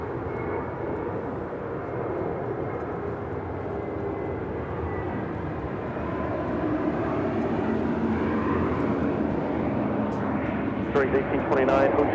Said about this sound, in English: Next departure, Spirit Airlines Flight 76 heading to Newark in an A320 Neo.